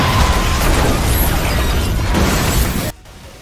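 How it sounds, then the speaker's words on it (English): A massive explosion in Garry's Mod makes a loud, dense, roaring blast that holds steady for about three seconds, then cuts off abruptly. "Editing a massive explosion."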